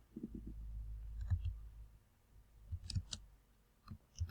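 Computer keyboard typing text into an Excel chart title, heard as a few faint scattered clusters of soft key clicks separated by pauses, close and quiet with no talk.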